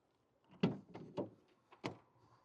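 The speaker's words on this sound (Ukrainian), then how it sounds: "Так відчиняється задній дверцята, розпашонка." A few sharp mechanical clunks and knocks as the swing-open rear door of a Renault Trafic 2.0 diesel passenger van is opened, with short pauses between them, fairly close.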